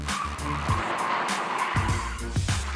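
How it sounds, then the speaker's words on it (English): A car skids through a 180-degree handbrake spin-out on a driving course, with loud tire squeal and engine revving that surge in several bursts. "Canada's worst drivers have learned how to do a 180-degree spin out by using their handbrake."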